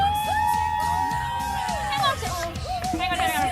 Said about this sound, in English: All right, a big round of applause for Tarli Bird in the T-Bird.